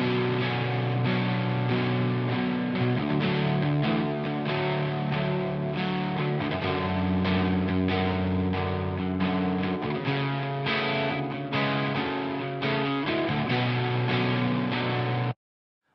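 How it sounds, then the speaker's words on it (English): Lighter-distortion metal rhythm guitars played through the second channel of a VH4 amp with Recab cabinet simulation, a dense, loud, steady wall of chugging chords lasting about fifteen seconds before cutting off abruptly. "another section, actually, over here, which has some lighter distortion guitars"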